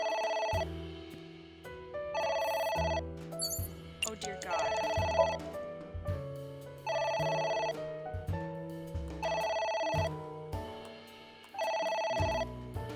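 Telephone ringing in the video game AI: The Somnium Files, a repeating electronic ring in regular bursts over a game music bed, with a brief spoken exclamation.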